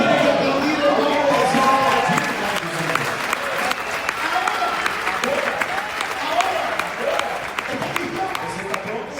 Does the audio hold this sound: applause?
yes